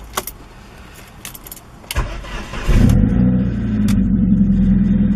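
A BMW car left standing for a month: keys jangle up close, then the engine cranks and fires at once, settling into a steady, fairly loud idle. No one talks.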